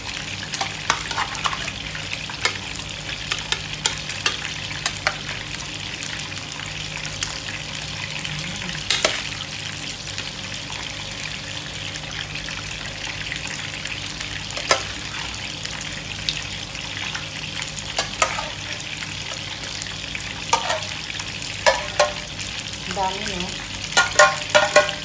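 Salmon fries in a pan for sinigang, a steady sizzle under repeated stirring scrapes, with running water and a few utensil knocks in between, close and continuous.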